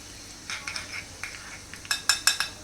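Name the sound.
mustard seeds and green chillies frying in tempering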